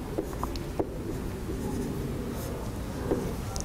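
Pen or pencil writing out a math expansion on paper, with soft scratchy strokes and a few small taps over a steady room hiss, close and quiet, no voices.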